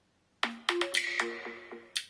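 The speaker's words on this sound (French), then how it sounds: "ça vous balance la sonnerie à fond et comme ça vous pouvez trouver votre téléphone" A phone ringtone set off by the find-my-phone feature of an Amazfit T-Rex smartwatch plays a loud, bright melody of distinct stepped notes, heard alone and close.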